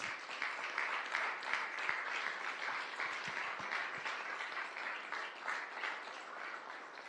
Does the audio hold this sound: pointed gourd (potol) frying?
no